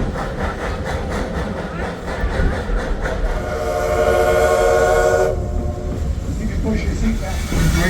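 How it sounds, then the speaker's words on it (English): An 1880 train's steam locomotive labours up a steep grade of about 3 to 4 percent in South Dakota, giving loud rhythmic chuffing with clanking cars, and a whistle sounds briefly midway. "you can hear the locomotive working pretty hard"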